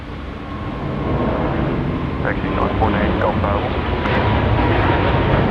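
A fixed-wing airliner landing on runway 34 left at Sydney Airport, its engine roar rising and holding loud and steady throughout.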